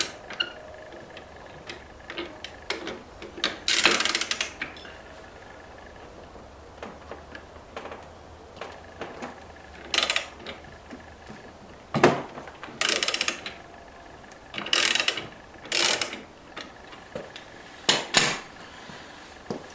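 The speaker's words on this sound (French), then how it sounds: "vous pouvez utiliser comme nous un cliquet équipé d'une douille de 17" A ratchet fitted with a 17 mm socket loosens the variator nut on a scooter, giving scattered bursts of close, dry clicking separated by quieter pauses, with no talk.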